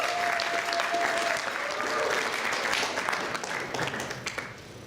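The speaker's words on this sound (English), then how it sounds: "So can I have a round of applause for Nadeem" An audience at the IHRC Federation World Conference in London applauds a person in a sustained burst of many hands clapping, loud and continuous, then tapering off toward the end.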